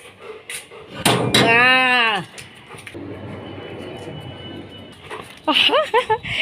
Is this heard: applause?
no